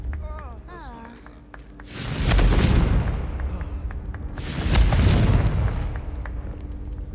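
A Confringo fire spell bursts in Hogwarts Legacy as two loud, booming explosive whooshes, the first around two seconds in and a second near five seconds, each rolling and decaying over a low rumble.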